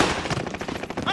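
Rapid machine gun fire in the shooter game Rebirth, one close, evenly spaced burst of shots that fills the whole moment.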